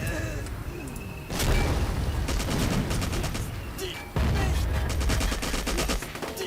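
Heavy gunfire rattles through a 1944 Ardennes winter battle in a video game. Loud volleys and rapid bursts come in waves, with heavy impacts partway through and voices faintly underneath.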